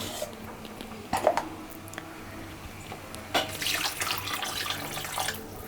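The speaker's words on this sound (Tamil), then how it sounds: "இதில் நம்ம தண்ணி ஆட் பண்ணிக்கலாம்." Water is poured into a pan of crab curry (nandu kulambu), with a short splash followed by a longer, gurgling pour, faint and close with no talk.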